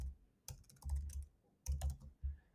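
Close, quiet typing on a computer keyboard in short bursts of quick key clicks separated by brief pauses, with no voices.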